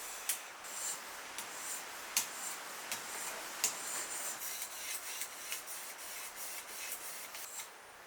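A knife is drawn repeatedly across a 1000 grit sharpening stone on a TSProf Kadet Pro system, making soft, close, rhythmic scraping strokes about once or twice a second, with brief bright rasps on each pass.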